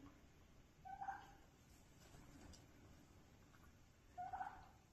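A domestic tom turkey gobbling twice in a pen, each short rattling burst well separated by quiet, faint and a little distant over a low steady background.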